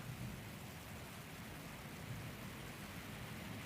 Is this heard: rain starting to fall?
yes